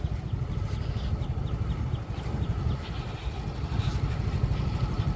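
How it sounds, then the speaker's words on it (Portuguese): Small motorbike in Indonesia, its engine held at a revving, throbbing rumble by someone walking alongside, loud and close with slight surges and dips. "essas motinhas é tão fácil de pilotar que tu consegue acelerar com uma mão só"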